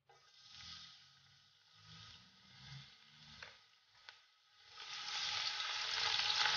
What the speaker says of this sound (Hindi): इसे 2 मिनट के लिए रोस्ट करेंगे, फ्राई करेंगे